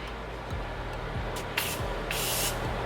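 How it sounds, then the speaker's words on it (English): A few quick hissing bursts of a facial mist spray bottle, close by, separated by short pauses over a quiet background. "It does continuously spray."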